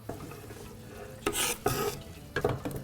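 Onions frying in a pan for stuffed bread are stirred, making loud bursts of sizzling and scraping between quieter stretches of low hiss.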